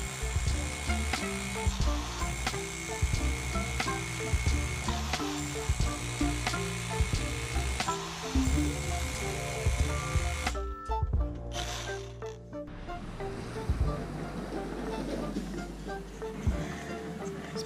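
A Milwaukee CHX cordless hammer drill bores through a 20 cm firebrick, producing a dense rapid hammering rattle with pauses between bursts, then a rougher grinding stretch as the bit works through, close and fairly loud.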